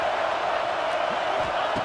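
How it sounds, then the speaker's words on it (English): A stadium crowd roars steadily in College Football 26, a dense, continuous wash of distant cheering and murmur from a packed venue, with faint low thumps underneath. "Listen to the crowd energy here in the early going."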